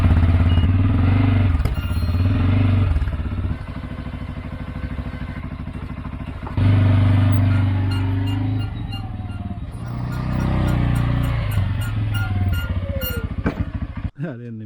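A four-wheeler ATV engine runs loud and close for the whole stretch, rumbling and changing pitch as it drags a detached snow plow across the ground with scraping clatter, and the throttle surges around the middle.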